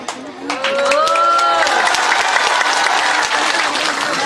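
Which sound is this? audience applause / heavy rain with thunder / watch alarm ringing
audience applause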